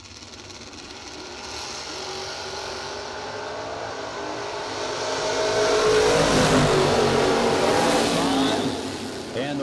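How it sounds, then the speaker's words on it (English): A 1966 Ford and a big Oldsmobile wagon race side by side at a drag strip, engines roaring steadily and swelling louder midway before easing, with an announcer talking over the noise. "The 66 Ford up against John Roach's 641 in the big Oldsmobile wagon."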